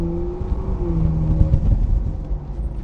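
A Ferrari 458 Spider pulls away, its engine giving a steady low rumble with a rising tonal whine as it accelerates, close and fairly loud throughout.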